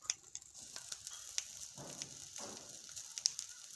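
Chopped chili pepper pieces (dabbu menasinakayi) frying in hot oil, a steady soft sizzle with scattered crackles and pops, close and fairly quiet, no voices.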